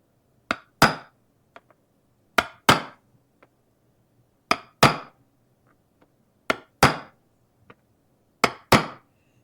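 Hammer blows on a piece of steel while fitting edge trim for a Mandalorian shoulder armor piece: sharp metallic strikes in pairs, about five double hits spaced evenly, with faint lighter taps between, close and loud with no talking.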